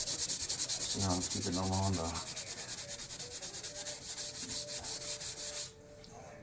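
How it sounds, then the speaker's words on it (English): Hand sanding wood with 150 grit sandpaper on a steam-damaged valance, a steady rhythmic rasp of strokes that runs throughout, with someone talking briefly over it before it fades near the end. "I'm gonna sand into the 150 darker area here on the edge of it and feather sand that in"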